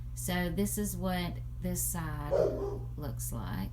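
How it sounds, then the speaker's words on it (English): A dog barks and yips repeatedly in the background of a room while a person talks over it, the barks coming in short bursts, fairly close but partly masked by the speech. "Sorry if you hear my dog barking in the back."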